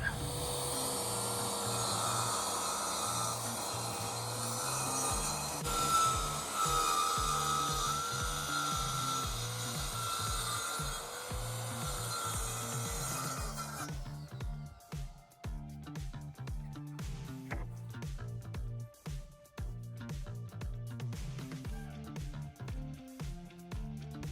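A saw cuts a hardwood floor board for an inflatable boat, first as a long continuous whining rasp and then as a rougher, rhythmic scraping as the cut finishes.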